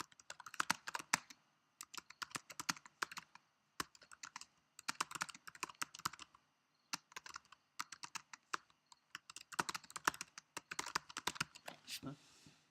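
Keys clatter on a computer keyboard in quick bursts of typing with short pauses between runs. The sound is close and fairly quiet, ending with a couple of heavier key presses.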